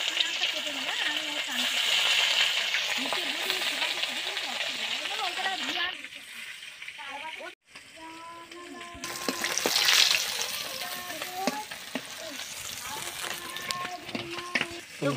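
Fish fry in oil in a wok with a loud, bubbling hiss that runs throughout, rising and falling, while a voice talks over it.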